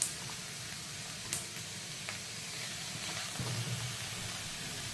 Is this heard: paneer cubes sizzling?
yes